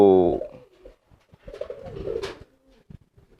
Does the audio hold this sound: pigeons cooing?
yes